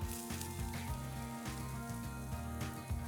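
Smash burger patties sizzle steadily on a griddle at a campground, a close, continuous crackling fry with faint low hum beneath and no speech.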